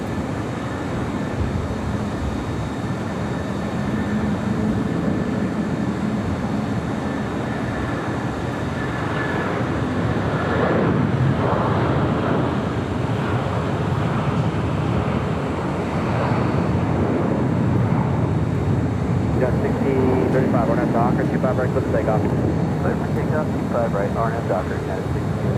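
An ITA Airways airliner arrives at LAX, coming in a little fast, its steady jet roar rising and swelling over the span, heard from a distance beneath ongoing talk.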